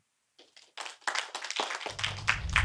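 Audience at a women's poetry event breaking into applause for a poet, starting with a few scattered claps that quickly build into fuller, denser clapping.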